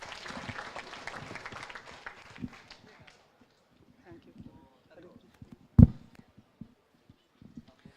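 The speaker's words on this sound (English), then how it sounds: "Give him a round of applause." An audience at a spiritual talk gives brief, fairly soft applause that tapers off within a couple of seconds, leaving near quiet with faint stray sounds and a dull thump.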